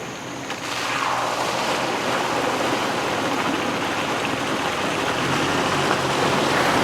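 Off-road vehicle on Cave Fork Road rolling through a water crossing, a steady rushing wash of splashing water under a low engine drone, loud and close throughout with no voices.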